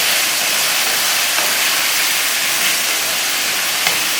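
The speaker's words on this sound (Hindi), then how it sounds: "आलू को हमें अच्छी तरह फ्राई करना है" Potatoes for aloo bhujia fry in a pan, a continuous loud hiss of bubbling oil holding steady throughout.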